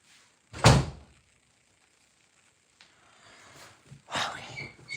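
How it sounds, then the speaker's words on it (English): A door is shut in one sharp, loud thump, then comes a quiet pause. Later there are softer rustling knocks and a brief burst of movement nearby. "Let me shut my door all the way."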